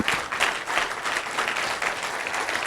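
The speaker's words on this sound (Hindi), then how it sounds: "सबसे पहले विजय बीपी साहब के लिए जोरदार तालियां बजाइए आप।" Audience applause at a business event in a hotel hall, a dense, steady wash of clapping from many hands, fairly close and loud, with no talk over it.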